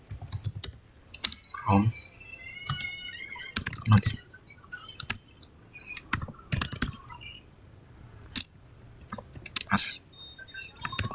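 Clicky computer keyboard typing in irregular bursts and single keystrokes, close and fairly quiet, with a brief spoken word mixed in.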